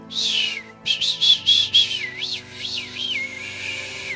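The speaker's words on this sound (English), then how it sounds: "How can you not whistle like?" A series of short, bright whistled notes in the video game Disco Elysium, some wavering and trilling, rising and falling in a playful melodic pattern, fairly close and clear.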